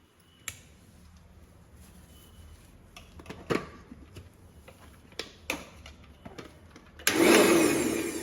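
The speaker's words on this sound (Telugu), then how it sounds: "మిక్సీ వేసుకుందాం." A kitchen mixer grinder grinding ingredients for homemade kunkuma starts up near the end with a loud, sudden whirring burst, after a few sharp clicks and taps.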